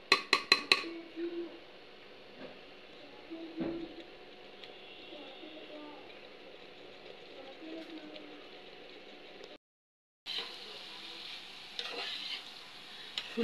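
Cauliflower and potato bhaji is stirred and fried in a pan, with a few sharp utensil clacks at the start followed by a steady low sizzle and scraping, briefly cutting out before resuming.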